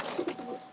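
A dark-coloured pigeon of a Rampuri breed coos briefly in a pigeon keeper's loft in Rampur, giving a short, soft, low double coo at close range without any talk.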